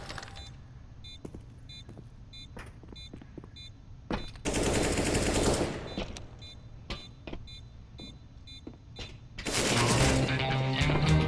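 AK rifle gunfire in a video game level, several sharp automatic bursts and single shots spread across the clip, with two longer, louder stretches of sustained fire and mechanical rattles between them.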